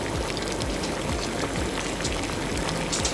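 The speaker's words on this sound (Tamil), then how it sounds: "சோ இப்போ தண்ணி வந்து பாயில் ஆயிடுச்சு." Water at a rolling boil in a pot on the stove for Maggi noodles, a steady dense bubbling and hissing with frequent small pops, continuous and close.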